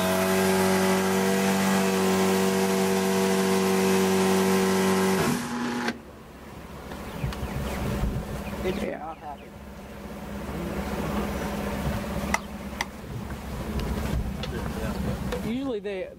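A siren motor is smoking, and its loud steady drone cuts off and winds down into a fading, rattling whir. Voices talk over the run-down.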